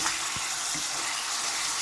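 Strips of beef spit and hiss loudly in hot oil for a stir fry, a dense continuous sizzle with a brief clatter at the end, close and alone.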